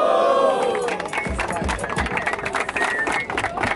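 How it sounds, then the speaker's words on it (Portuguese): A crowd at the Batalha da Leste street rap battle breaks into clapping after a brief voice, producing a loose, fairly steady patter of hand claps mixed with murmuring chatter. "Palmas."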